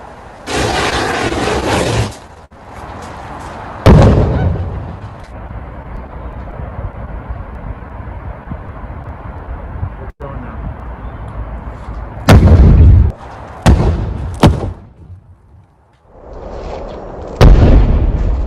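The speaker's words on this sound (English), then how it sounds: "Just to get a feel for the explosion." A recorded fuel explosion plays back as a series of loud, sharp blasts, with an initial burst followed by a long rumbling decay and several further bangs and booms later on, with no talk over it.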